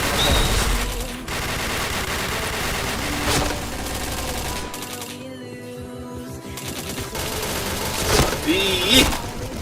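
Rapid gunfire bursts from the shooter video game Point Blank rattle loudly in dense volleys, with a short lull midway, while a player talks over the game sounds.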